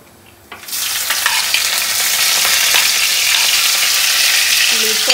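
Cumin seeds dropped into hot oil for a dal fry tempering: after a quiet start, a sudden loud, bright sizzle bursts up and holds steady and dense to the end, with a few faint clinks.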